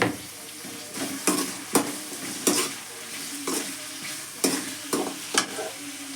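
Thickly chopped tomatoes stirred in a hot pan while making puffed rice usli, a steady sizzle broken by repeated sharp scraping strokes of the spoon, about eight in six seconds, close and clear with no talking.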